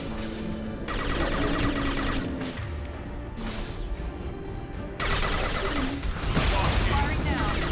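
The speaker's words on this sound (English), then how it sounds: "Firing now." Gunfire in Mass Effect 2, dense sustained bursts of loud automatic fire and impacts that cut in and out, with game effects and voices talking throughout.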